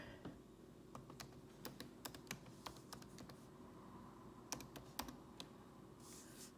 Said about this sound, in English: So we can just type in an email address here.